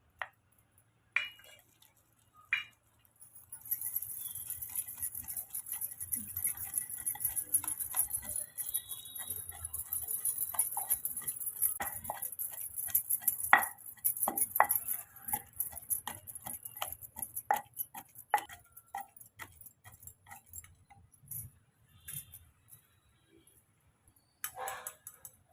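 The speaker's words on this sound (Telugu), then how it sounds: "జీలకర్ర, ఉప్పు కూడా వేసేసి నూరుకుందామండి." Cumin, salt and tamarind for a cucumber chutney are ground by hand, likely with a stone mortar, producing irregular clinks and scraping taps that thin out toward the end, with a steady high hiss throughout.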